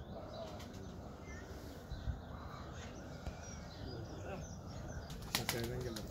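A tumbler pigeon lands in a loft in Mülheim, Germany, its wings flapping in a faint, brief flutter against a quiet background hum, with a short louder rustle near the end.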